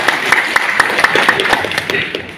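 A group at a PPSI regional working meeting in Karawang claps in a rhythmic, patterned chant-clap, sharp hand strikes repeating over a steady murmur of crowd noise.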